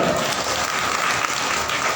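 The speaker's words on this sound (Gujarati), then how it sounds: "અલ્પાબેન, જોરદાર તાળીઓથી સ્વાગત।" Steady, dense applause from a seated gathering fills the room, welcoming a woman named Alpaben; loud and continuous throughout with no pauses or voices.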